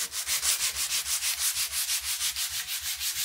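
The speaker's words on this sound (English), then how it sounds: "That's because I've got to sand the top here." Rhythmic back-and-forth sanding across the top of a wooden stair part in a hall and landing, a steady scratchy rubbing repeated about eight times a second, close and loud, with no talk.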